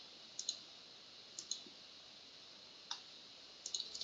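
Quiet, crisp mouse clicks sound while objects are selected in CAD software for a land subdivision design: single clicks and a few quick double clicks spread across several seconds over a faint steady hum.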